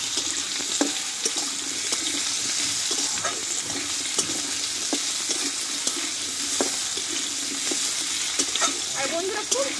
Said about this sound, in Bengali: এবার কেটে রাখা আলুগুলো দিয়ে দেবো। আর এই তেলে আমি আলুটা একটু ভালোভাবে কষিয়ে নেব।